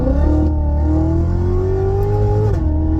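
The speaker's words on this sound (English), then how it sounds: "watch what happens when I hit the gas" A Chevrolet Corvette C7 Z06 accelerates hard, its loud engine note climbing steadily in pitch for a couple of seconds before a quick drop at a gear change, heard close up with no talk.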